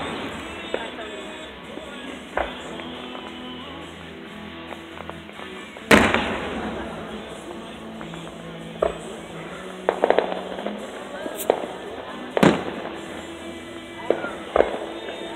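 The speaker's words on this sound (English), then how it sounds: "Out here with my new neighbors on the 4th of July, watching the fireworks." Fireworks bursting outdoors on the Fourth of July, with two loud sharp explosions standing out over scattered smaller pops and crackles, heard from a short distance while people talk in the background.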